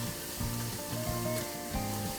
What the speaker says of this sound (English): Gently press down the puri in the oil until it puffs out.